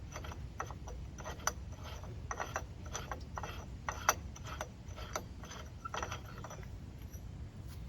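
A loosened wheel-bearing nut on a 2001 Dodge Ram V8 4x4 being spun off by hand, giving quick irregular metallic clicks and ratchety ticks over a steady low background rumble, close and moderately quiet.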